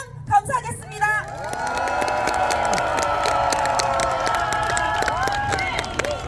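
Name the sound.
crowd applauding and cheering to welcome a candidate at a rally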